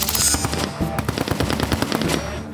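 Suppressed FN P90 fires full auto at an outdoor shooting range: a rapid, dense string of muffled, cracking shots in quick bursts, loud and close throughout the short stretch.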